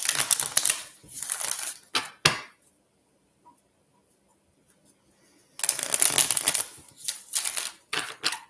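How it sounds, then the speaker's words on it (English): Tarot cards being shuffled in two close, crisp bursts of riffling and slapping, separated by a few seconds of near silence. "I always try to look at the cards in my right hand while I'm shuffling"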